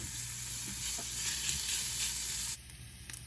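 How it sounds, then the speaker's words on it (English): Chopped bacon sizzles steadily as it fries in a pan for shrimp and grits, a dense close hiss that runs without pause and then drops away sharply near the end. "Going in with some chopped bacon. You wanna cook this until it's nice and brown."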